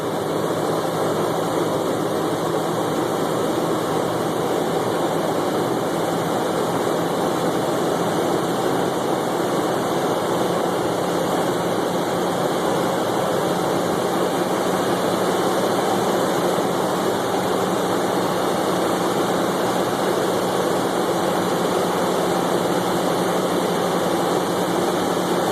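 A CNG-fueled V8 engine running steadily during calibration, a loud, close, continuous drone with a constant low hum that holds evenly throughout with no pauses or talking.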